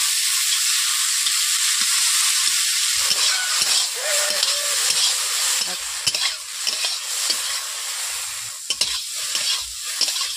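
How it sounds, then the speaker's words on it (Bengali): Okra frying in a pan, a steady loud sizzle with bursts of stirring and scraping running throughout, close and continuous with no talking. "ঢেঁড়সগুলোকে আমি ভেজে নেব ভালো করে।"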